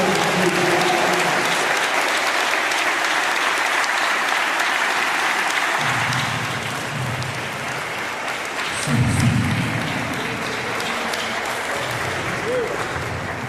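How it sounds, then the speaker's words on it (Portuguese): Church congregation at a Sunday worship service in São Vicente, Brazil, giving a sustained round of applause, dense and even clapping throughout, with low voices and crowd murmur rising underneath partway through. "Dê uma salva de palmas para nosso Deus"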